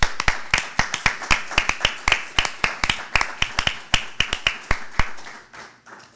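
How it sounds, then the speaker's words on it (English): A small audience at a community panel event gives a round of applause: a couple dozen crisp, separate hand claps at an uneven, lively pace, close and clear, fading out toward the end with no talking. "Give a round of applause for Christina Nocito."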